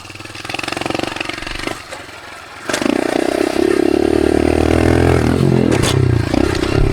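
A dirt bike ridden in third gear across open desert: the engine drones loudly and closely, dips briefly, then surges back to a sustained high rev with some clattering and scraping over rough ground.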